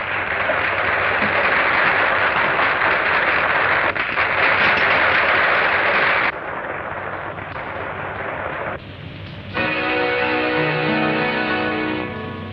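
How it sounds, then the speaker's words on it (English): Dense, loud applause from an audience in a 1937 western rings out as a steady crackling wash for several seconds, thins and fades, then music takes over near the end. "Listen to that applause"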